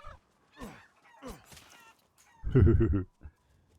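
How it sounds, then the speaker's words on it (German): Several short, honking chicken calls in quick succession in the video game Resident Evil Village, loud and close, preceded by scattered softer squawks and followed by quiet. "Oh, Hühner. Hühner."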